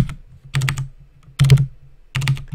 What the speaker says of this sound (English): I'm not very good with the keyboard.